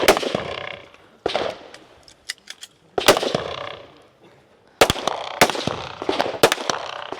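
Pistol shots fired at about 15 meters on a shooting competition stage, sharp loud cracks in irregular bursts, some in quick pairs and clusters, with short gaps and faint echo between.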